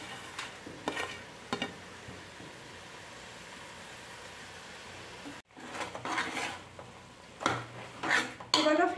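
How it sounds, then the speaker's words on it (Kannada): Chopped amaranth greens frying in a pan for sambar, a soft steady sizzle with intermittent stirring scrapes and clinks that grow busier toward the end, close and without talk. "ಸೊಪ್ಪು ಮೆತ್ತಾಯ ತನಕನೂ ಫ್ರೈ ಮಾಡ್ಕೋಬೇಕು."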